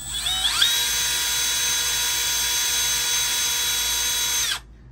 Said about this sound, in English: kind of drill through both of these.